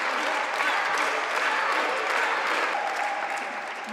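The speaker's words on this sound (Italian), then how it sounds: "hanno dimostrato di ricevere i vostri applausi" Steady applause from an audience at a live Italian event, filling the whole moment at an even, moderately loud level with no speech over it.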